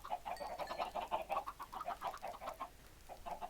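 Chickens in the Minecraft video game cluck in a quick, continuous series of short, soft repeated clucks, fairly faint and with no talking over them.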